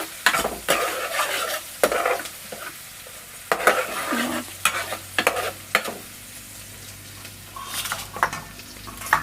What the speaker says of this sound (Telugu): ఇది మంచిగా ఫ్రై అయిపోయిన తర్వాత అయితే అల్లం వెల్లుల్లి పేస్ట్ అయితే వేసేసుకుంటున్నాను